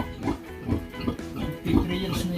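A mother sow on a pig farm gives low, rough grunts in short bursts, close by, under people talking and general pen noise.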